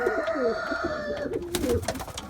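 Pigeons coo close by in soft, repeated rolling calls, with a faint hum and brief rustling in the background.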